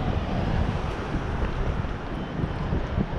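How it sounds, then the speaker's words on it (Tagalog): Steady wind buffets the microphone with a continuous low rumble at the Nippon Maru Memorial Park waterfront in Minato Mirai, Yokohama, with no clear voices. "Mahangin."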